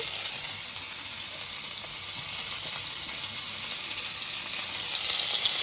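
Sliced green chillies fry in a pan with a steady, fairly quiet sizzle that swells slightly toward the end, with no talking.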